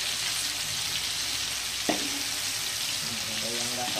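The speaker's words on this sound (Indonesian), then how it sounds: "Kita goreng dia hingga matang ya." Chicken steak for a Chinese-style chicken bistik fries in a pan over lowered heat, a steady dense sizzle throughout with a brief clink near the middle, close and loud, with no talking.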